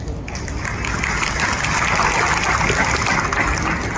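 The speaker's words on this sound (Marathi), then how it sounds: "निष्ठावान या शब्दावर किती टाळ्या पडल्या पहा" A rally audience breaks into loud, sustained applause, a dense crackling wash of clapping close by that holds steady throughout.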